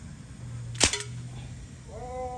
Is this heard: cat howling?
no